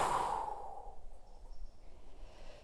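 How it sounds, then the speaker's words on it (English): A long, audible exhale through the mouth during a yoga sequence, starting strong and breathy then tapering off over a couple of seconds, close and alone with no talk. "Breathing in and with a mouth breath."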